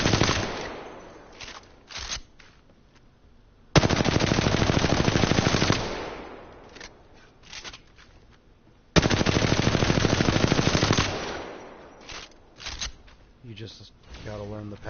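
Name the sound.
automatic weapon firing in the video game Apex Legends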